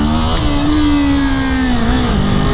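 A Kawasaki Z400 motorcycle engine revs hard in first gear for a power wheelie, a loud, steady, close-up drone whose pitch rises slightly and then dips near the end.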